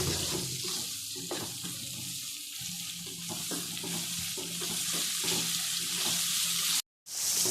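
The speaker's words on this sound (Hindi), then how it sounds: "कटी हुई सब्ज मिर्च ऐड करेंगे और मसालों को हम अच्छे से भून लेंगे।" Spices and chopped green chillies fry and are stirred in a pan while making kaleji masala, a continuous close sizzle with scraping stir strokes and a brief cut near the end, and no talking.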